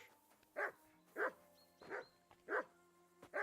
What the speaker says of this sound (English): Holy cow, tell this dog to shush.